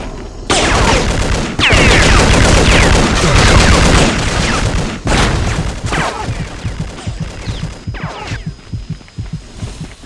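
Video game combat with dense, loud bursts of rapid gunfire and heavy thumping blasts, including an M26 fragmentation grenade set on a tripwire, rolling and booming with a brief pause midway.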